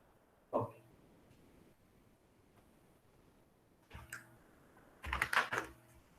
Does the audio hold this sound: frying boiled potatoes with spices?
no